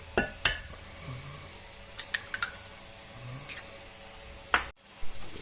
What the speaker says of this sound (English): And we'll crack in 2 eggs.